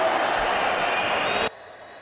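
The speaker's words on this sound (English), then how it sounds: "This is called a crowd." Boxing event crowd cheering and clapping in a dense, loud roar for about one and a half seconds before cutting off abruptly to near quiet.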